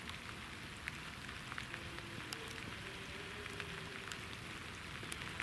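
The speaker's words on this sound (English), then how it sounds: "The rain is really coming down," Steady heavy rain pattering directly onto a camera outdoors, a dense continuous hiss with scattered sharper drop hits, no voices.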